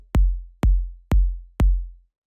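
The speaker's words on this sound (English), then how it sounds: "So I made this by taking an 808 kick" Four deep 808 kick drum hits shaped in a sampler with volume and pitch envelopes, evenly spaced about half a second apart, each a sharp click dropping into a booming low tail, alone and dry.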